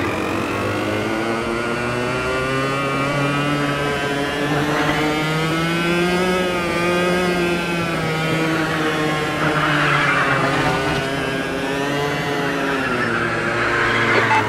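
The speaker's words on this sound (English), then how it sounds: "you're getting lots of wheel spin" A 125cc racing kart in Automobilista 2 at Londrino Kart One revs hard through wheel spin, its engine whine rising and falling with tire squeal, loud and close throughout without talk.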